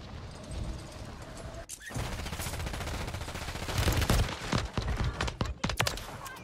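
Rapid, crackling bursts of pistol fire in a Call of Duty match on Rebirth Island, close and loud amid dense in-game clatter, with shots clustering more heavily toward the end.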